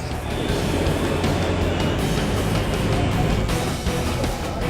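Heavy, rumbling engine roar of approaching Blue Angels jet aircraft holds steady and loud throughout, a dense broadband noise close by, with no talking.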